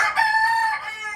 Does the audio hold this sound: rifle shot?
no